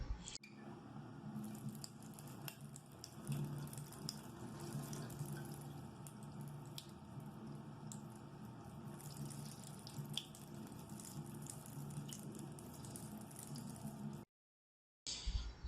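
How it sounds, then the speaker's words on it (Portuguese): Water runs steadily from a tap over a spoon, a constant splashing hiss with small droplet spatters, continuing alone for about fourteen seconds before a brief drop to silence. "a água, quando ela desliza pela superfície da colher, ela tende a acompanhar o formato"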